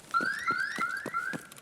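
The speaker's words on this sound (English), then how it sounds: "If you hear that alarm going off, someone has obviously opened up Kiba" Store alarm in the Escape from Tarkov shooter game, a rapid repeating electronic whooping tone pulsing about five times in quick succession, fairly loud and alone.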